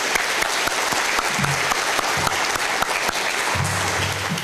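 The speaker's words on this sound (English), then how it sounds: "let's give everyone a round of applause" An audience at a National Junior Honor Society induction ceremony for a middle school applauds in a dense, loud, continuous wash of clapping that holds steady throughout, with faint murmurs of voices underneath.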